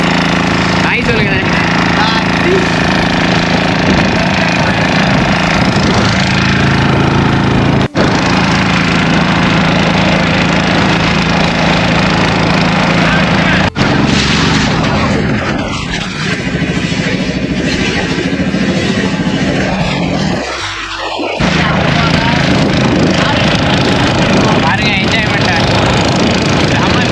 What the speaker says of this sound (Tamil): This is boat ride.